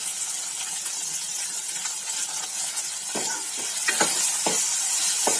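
Okra in tamarind curry is stirred after salt goes in, giving a steady bubbling hiss from the pan, with a few scrapes of the spoon near the end.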